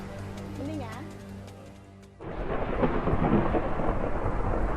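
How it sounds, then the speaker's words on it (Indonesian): Heavy rain from a thunderstorm over Kampung Tungku Kidul, Lebak, Banten bursts in as a loud, dense, rumbling roar that holds steady, after a stretch of talk. "hujan deras sedang mengguyur wilayah Kampung Tungku Kidul, Lebak, Banten"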